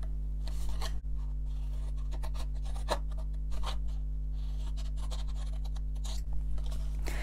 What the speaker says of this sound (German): Und da schneide ich jede Falzlinie einmal ein bis zur nächsten Querfalz.